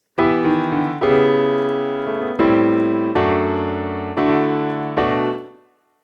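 Piano plays the closing phrase of the last bridge of a song, a loud sequence of six sustained chords struck one after another, each left to ring, with the final chord fading out.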